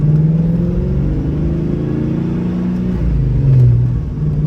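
A car with a newly installed Cobra throttle body pulls away in second gear under gentle throttle. The engine note is a steady, loud mid-pitched drone that rises gradually and swells near the end, with no talking.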